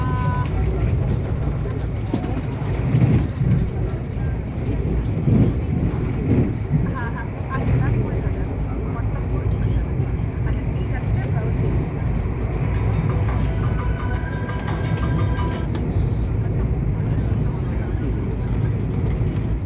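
The 20897 Howrah–Ranchi Vande Bharat Express runs through Ghatshila station toward Tatanagar, a steady rumbling roar with rushing wind noise, carrying on without letup under passing talk.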